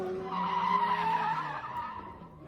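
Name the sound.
Lamborghini Huracan Technica skidding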